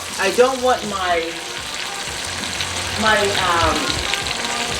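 Organic mushrooms fry in a pan for a pecorino romano risotto, a continuous close sizzle that runs under a person talking.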